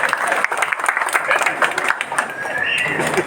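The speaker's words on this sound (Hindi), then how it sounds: "एक बार जोरदार तालियों से समी मौलवी का स्वागत कर रहे हैं।" Welcoming applause for Sami Maulvi at an Azad Education Trust felicitation event, a dense, steady patter of many hands clapping from a crowd, with some voices mixed in.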